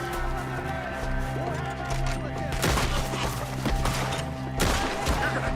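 Gunfire in the video game Red Dead Redemption 2: scattered crackling shots and a couple of louder bursts under a steady bed of game music and ambience, with hooves and shouting voices mixed in.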